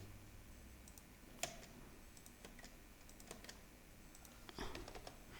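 Typing on a computer keyboard while working in a word processor, a nearby run of light, irregular key clicks with a couple of sharper taps, no talking.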